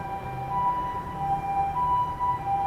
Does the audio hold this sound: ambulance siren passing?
yes